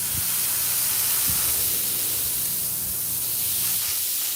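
An airbrush sprays a light, controlled flow of paint as a steady, close hiss that runs unbroken for several seconds, with faint low clicks underneath.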